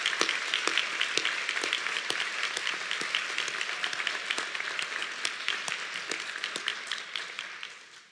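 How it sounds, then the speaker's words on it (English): A graduation audience applauds district employees with sustained, dense clapping that fills the room at an even level before tapering slightly at the end, with no speech over it. "Let's give them a big round of applause."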